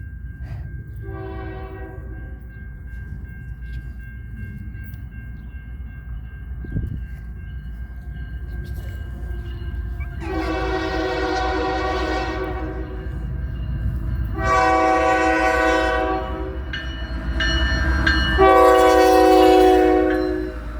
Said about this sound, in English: the northbound train turned out to be two ES44ACs running engine light, CN numbers 2867 and 2841